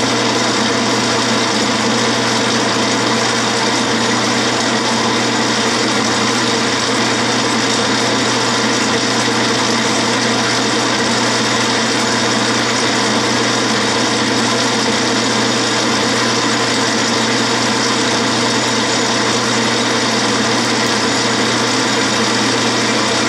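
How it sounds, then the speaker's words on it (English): A metal lathe taking light boring passes with a small boring bar to true up a hole in a bell center punch, giving a steady, loud, unbroken machine whine and hum with no talking. "I took three passes with a little boring bar, light passes."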